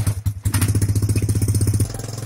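The small engine of a homemade tractor converted from an MTZ-05 walk-behind tractor runs close by with a rapid, steady chugging beat, then the rhythm changes near the end as it keeps idling.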